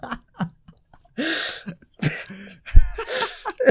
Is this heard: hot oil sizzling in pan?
no